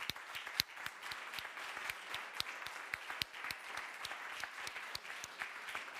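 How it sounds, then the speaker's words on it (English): Audience applause for speakers at a humanitarian aid conference, a steady wash of many hands clapping at moderate volume with sharper individual claps standing out, continuing throughout without speech. "a round of applause for our speakers"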